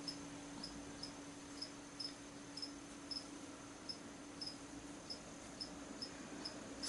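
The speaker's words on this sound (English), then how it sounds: "You can hear the crickets." Crickets kept indoors as bearded dragon feed chirp faintly in a steady, regular rhythm of short pulses, roughly two per second, alone in an otherwise quiet room.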